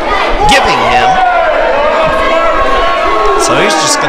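Wrestling crowd at an event in Mattoon, a dense continuous roar of voices with shouts and whoops rising and falling, loud throughout, while a voice calls out above the din.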